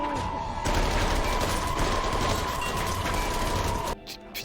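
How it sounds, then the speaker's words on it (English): Sustained automatic gunfire in a Squid Game episode, a loud continuous burst of rapid shots that cuts off abruptly near the end under a steady high tone. "They're gonna shoot through there."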